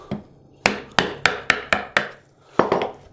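A chisel struck repeatedly with a mallet, chopping a mortise into a wooden table leg: about eight sharp, close knocks at a steady pace, each followed by a short woody ring, with no talking.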